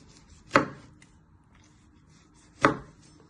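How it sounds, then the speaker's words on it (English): A knife chops through tomatoes on a cutting board, giving two crisp, separate strikes about two seconds apart that sound close and clear against a quiet background. "Next step, you want to prep your 2 tomatoes. You first chop it down the middle."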